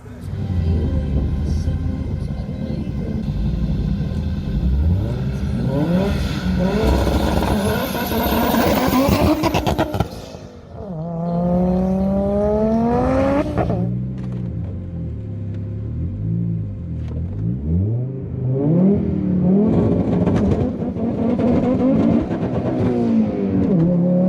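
An Audi engine revs hard and climbs through the gears on a highway, dropping pitch at each shift before rising again, loud and close throughout.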